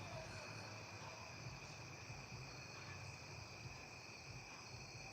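A steady chorus of crickets chirps continuously at night in the background, faint and even, with no talking.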